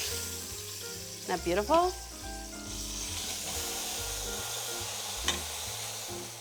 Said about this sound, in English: cook it till it gets brown on both sides